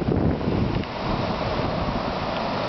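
Strong wind roaring steadily during a thunderstorm in rural Fayette County, Illinois, a dense, close buffeting rush across the microphone with no voices.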